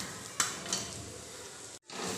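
Fried yam pieces are stirred into sizzling masala in a pan, a soft scraping of the spoon over a steady frying hiss, with a brief pause near the end.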